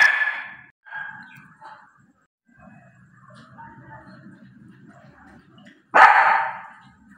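A dog barks during firecracker noise: a sharp bark opens, quieter rustling and low sounds follow, then a loud, forceful bark or burst lands near the end.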